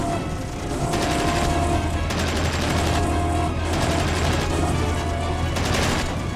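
Rapid bursts of gunfire in the space game Miner Wars 2081 crackle continuously over a low steady rumble, loud and close throughout.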